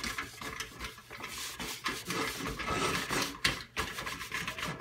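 Wax being rubbed and spread by hand across a surface, a steady close scraping and wiping texture with repeated strokes and no speech.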